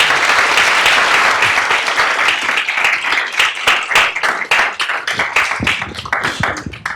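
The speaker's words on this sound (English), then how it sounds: "Please, if we could give our amazing panelists a round of applause." Loud, sustained applause from a student audience at an academic summit panel session, dense clapping filling the room and thinning into scattered individual claps toward the end.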